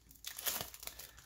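Plastic wrapping crinkles and tears off a football trading card pack, a dense run of crackly rustling that swells midway and keeps going close to the microphone.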